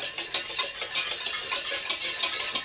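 Sweet and sour sauce is stirred as it thickens, a quick rhythmic scraping and swishing of a utensil in a pan, close and fairly loud, with no voices.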